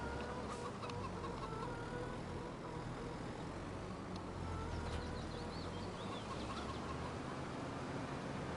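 Farm chickens clucking in a PS5 video game, scattered faint clucks under a constant broad, noisy background bed that runs the whole time, fairly distant.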